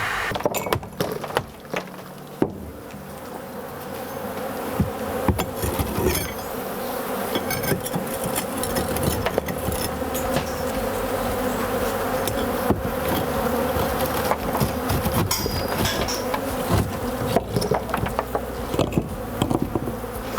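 A dense, constant buzz of a large honey bee colony being removed from a wall with a bee vacuum, close and loud, with scattered knocks and clicks breaking through now and then.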